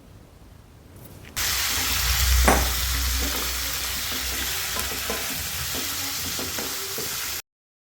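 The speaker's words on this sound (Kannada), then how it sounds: "ಇಲ್ಲಿ ನಾವು ಪ್ರಾನ್ಸನ್ನು ಸಣ್ಣ ಉರಿಯಲ್ಲಿ ಚೆನ್ನಾಗಿ ಸ್ವಲ್ಪ ಹೊತ್ತು ಫ್ರೈ ಮಾಡ್ಕೋಬೇಕು. ತುಪ್ಪದಲ್ಲಿ ಚೆನ್ನಾಗಿ ಫ್ರೈ ಮಾಡ್ಕೋಬೇಕು" Prawns marinated in turmeric hit hot ghee in a kadai, bursting into a loud, steady sizzle that continues with occasional stirring clinks before cutting off abruptly.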